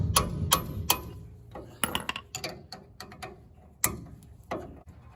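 Wrench working the tie rod end nut on the steering of a 1964 MGB, a series of sharp metallic clicks and ratcheting ticks spaced irregularly over several seconds, close and fairly quiet with no talk.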